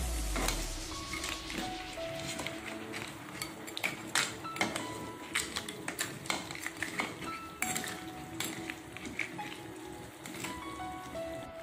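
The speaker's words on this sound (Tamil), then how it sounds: "மசாலாலாம் நல்லா ஒட்டணும், அதனால நல்லா கலந்து விடுங்க." Crab curry masala being stirred in a pan, a steady run of metal spoon scrapes and clinks against the pan over a low sizzle, close and fairly quiet, with no talking.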